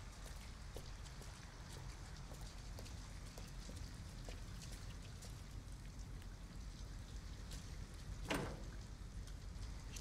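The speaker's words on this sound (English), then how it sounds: "Seriously, Kara, put the child out of the rain for now" Rain in the video game Detroit: Become Human, a soft, steady patter of drops with scattered sharper taps, faint throughout, plus one brief louder splash or swish near the end.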